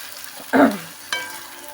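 Marinated beef hits a hot pan with a sudden burst of sizzling, followed by a second, softer clatter and steady frying.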